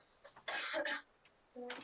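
A woman coughs twice in quick succession, close and fairly quiet, with a short gap before a final cough.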